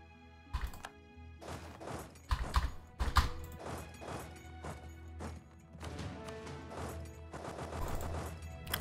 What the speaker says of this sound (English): Oh, the horses are ready. Horses, come here.